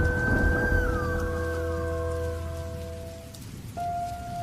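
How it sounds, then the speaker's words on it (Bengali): Heavy rain pours steadily through a night scene in an audio drama, a dense, even hiss that lasts the whole stretch, with sustained low tones droning beneath and no voices. "আজ সন্ধ্যে থেকেই ঝমঝমিয়ে বৃষ্টি হচ্ছে।"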